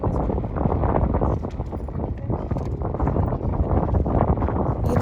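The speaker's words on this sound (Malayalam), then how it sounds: "കാറ്റ് വരുമ്പോൾ എന്ത് ചൂട് കാറ്റാന്നറിയോ" Outdoors in a hot wind, gusts buffet the microphone with a loud, continuous low rumble that swells and dips slightly but never stops.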